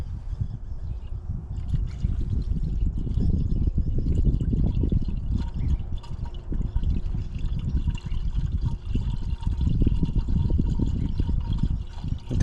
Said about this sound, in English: let's get to add some coolant in this one